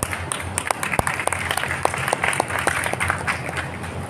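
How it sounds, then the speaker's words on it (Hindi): An audience at a lecture claps steadily for a few seconds, dense hand claps with a few sharper individual slaps standing out, moderately close and without any voices over it. "आप तो ताली बजा रहे हैं"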